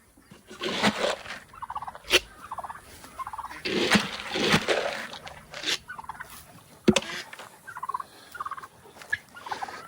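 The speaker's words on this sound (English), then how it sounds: "Come on, gobble, gobble. Come on, Turkey." A turkey gobbling in repeated short, rattling bursts, close by and fairly loud, separated by quiet gaps over about ten seconds.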